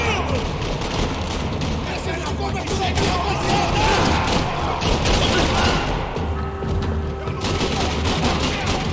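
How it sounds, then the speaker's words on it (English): Heavy gunfire in a parking lot in the video game Max Payne 3, dense bursts of shots and booms rattling almost continuously at close range, with a voice talking over parts of the firefight. "Another parking lot rattling with gunfire."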